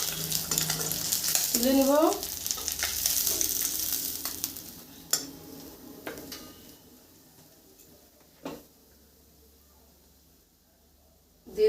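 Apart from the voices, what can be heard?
fish sizzling while frying in oil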